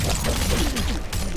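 Heavy Weapons Jax firing a blast in Mortal Kombat Mobile: a loud, dense burst of explosive impacts and crashing game effects that runs without pause, with several sharp hits standing out.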